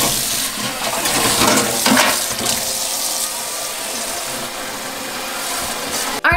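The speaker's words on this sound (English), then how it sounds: "So I'm going to fill it up the bottom with water" Water pours steadily and loudly into the bottom of a tamale steamer pot for green chili tamales, a continuous rushing splash filling the vessel, with a sharp clunk right at the end.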